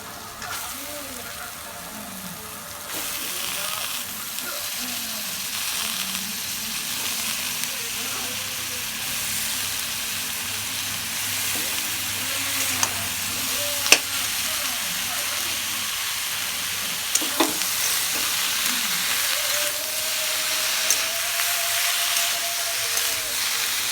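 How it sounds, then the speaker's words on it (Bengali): Chopped snake gourd fries in a pan with a continuous bright sizzling hiss and a few sharp clinks of stirring. "এবার এর মধ্যে আমরা কুচিয়ে রাখা চিচিঙ্গাগুলো দিয়ে দেব।"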